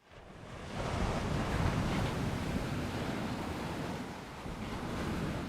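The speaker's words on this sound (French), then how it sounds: "On va écouter seulement les vagues." Steady rush of ocean surf with waves swelling and breaking, a continuous broadband roar with some wind noise, no voices.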